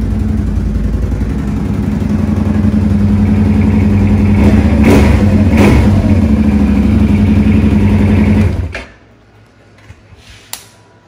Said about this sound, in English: So yeah, it's a pretty loud exhaust.